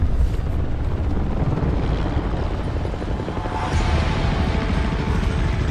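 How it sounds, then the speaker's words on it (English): A helicopter in Gears of War Judgment roars close and loud, a steady dense rotor and engine drone that holds for the whole stretch without talk. "Get to the chopper!"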